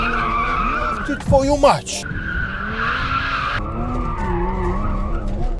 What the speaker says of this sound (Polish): Bokiem chodzi, jak widać.